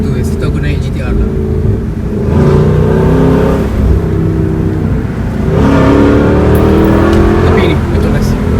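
A 2015 Nissan GTR R35 Black Edition engine drones loudly from inside the cabin, surging twice as it accelerates, with voices talking over it.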